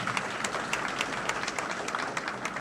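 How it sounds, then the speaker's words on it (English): An audience in a hall gives a steady round of applause for families, with dense clapping that holds at an even level throughout. "So have a large applause for your family and your children"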